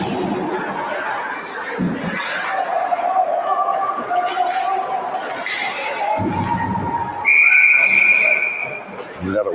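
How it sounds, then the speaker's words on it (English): A referee's whistle gives one shrill, sustained blast at a 14U championship ice hockey game in Alpena. It rises over a constant crowd murmur with chatter and rink noise. "We got a whistle here."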